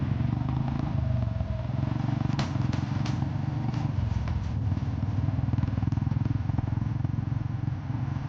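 A motorcycle riding along a road, its engine a steady close drone with faint rattles and clicks over continuous road noise, no voices.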